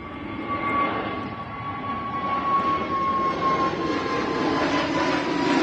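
An Aer Lingus airliner at Manchester Airport produces a steady, rising jet engine roar with a thin whining tone, heard from a moderate distance and growing louder toward the end.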